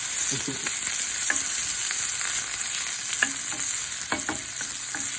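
Onions fry in a pan with a dense, loud, continuous sizzle and a few soft clicks of stirring, heard close with no one speaking.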